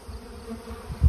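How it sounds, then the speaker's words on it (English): Honey bees buzz in a bee yard, a steady close drone throughout, with a louder thump or rustle at the very end. "Because the bees want their honey back."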